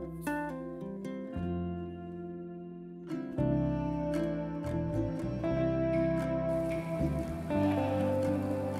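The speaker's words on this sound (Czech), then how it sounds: "Začalo nám trošku pršet" Light summer rain shower outdoors at a botanical garden, a steady patter of drops falling on leaves and surfaces, moderately close and continuous, with no talk.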